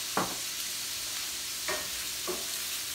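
Mushrooms, bacon and onion fry in a pan with a quiet, even sizzle, broken by three short scrapes of stirring; no voices.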